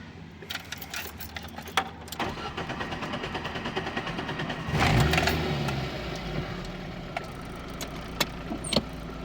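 A 2001 Lada Samara engine cranks and catches, then settles into a steady idle, with scattered clicks and rattles close by.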